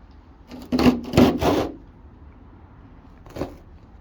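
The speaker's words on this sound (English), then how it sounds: "I'm going to use my pry tools. Actually, I might be able to scrape it off in one piece." Pry tools scrape and rub at the old headliner of a 1973 VW Beetle GT, with a few short raspy strokes close by in quick succession, then a pause and one fainter scrape.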